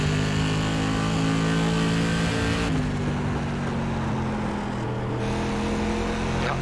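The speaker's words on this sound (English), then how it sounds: "there's a car exiting the pits" An SK Modified race car engine drones in the iRacing sim at New Smyrna Speedway, a loud sustained roar that shifts pitch partway through as another car leaves the pits, with no talk over it.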